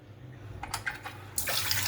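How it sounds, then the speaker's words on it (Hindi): Water gushes from a kitchen tap into a sink, starting in short spurts and then running in a steady, loud stream close by. "जब इस टूटी में से इस तरह पानी आता है"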